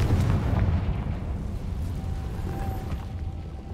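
A fire spell explosion in the video game Hogwarts Legacy makes a loud, rolling blast that rumbles on steadily, with a faint thin tone ringing through its second half.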